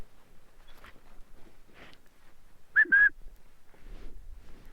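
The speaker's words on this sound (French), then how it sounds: "Moi j'arrive à peine à siffler, mais ils ont compris." A person gives a short two-note whistle to call horses on a countryside trail, a brief, close sound amid quiet surroundings and faint rustling.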